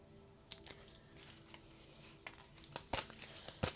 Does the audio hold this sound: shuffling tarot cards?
yes